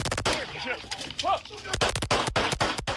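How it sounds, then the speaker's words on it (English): Rapid bursts of gunfire in Houston police raid news footage crack out among shouting voices, the sharp shots clustering in quick volleys near the start and end. "cut down by a burst of gunfire"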